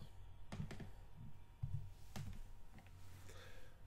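Typing a short search on a computer keyboard, a few scattered, soft key clicks close by over a low steady hum, with pauses between the keystrokes and no speech.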